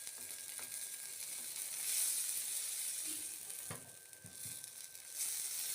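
Peas and chicken frying in a pan give a faint, steady sizzle, broken by a few soft scraping knocks as they are stirred. No one speaks.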